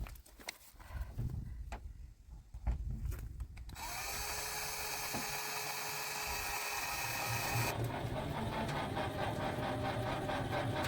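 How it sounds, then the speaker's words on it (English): A few clicks and knocks, then a power drill whirs steadily for several seconds drilling pilot holes in wood, its pitch shifting slightly as it bites in. "drill some pilot holes because we have some screws to put that in"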